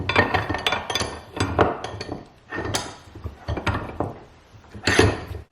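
A Yost 5.5-inch 855-D2 vise fitted with pipe jaws clamps down on a 5/8-inch metal rod, giving repeated metallic clinks and ratcheting knocks in uneven bursts, close and moderately loud, with pauses between turns.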